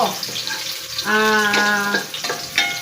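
Ginger fries in a pan with a loud, close sizzle, broken by a brief tonal hum and a few clatters.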